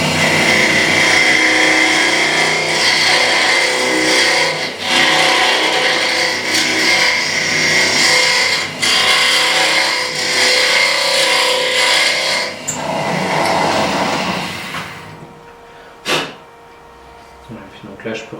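A wood lathe turns a small teapot while a bent hollowing tool scrapes inside it, making a steady loud rasping whir close by. Someone speaks over the work before the lathe winds down and leaves a few knocks.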